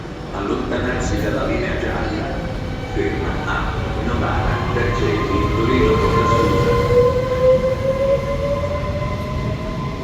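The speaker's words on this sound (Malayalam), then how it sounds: "നല്ല രസമുണ്ട് ഈ ട്രെയിൻ കാണാൻ അല്ലെ നല്ല കളർഫുൾ ട്രെയിന്" A colorful train passes in Italy, a steady loud rumble of wheels on rails with a rising metallic squeal through the middle, while a person talks over it.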